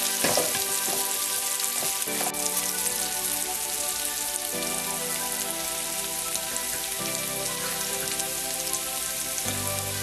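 Cashews and sesame seeds frying in oil in a pan for batata poha, a steady dense crackling sizzle throughout, close and continuous with occasional stirring scrapes, no voices.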